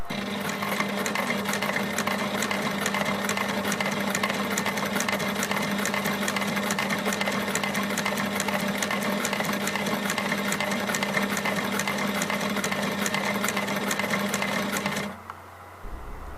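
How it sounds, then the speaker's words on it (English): An unthreaded sewing machine punches stitch holes in leather, a fast, even mechanical chatter over a steady motor whir that runs without pause for about fifteen seconds before stopping abruptly. "just use the sewing machine to make the holes"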